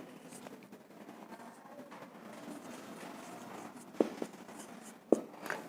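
A pen writes a sentence by hand in soft, steady scratching strokes, close by and quiet, broken by two sharp taps of the pen against the page.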